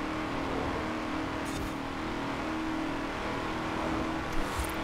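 Continuous engine drone of a Rover SD1 in the video game Forza Horizon 4, holding a steady pitch, loud and close, with no voices.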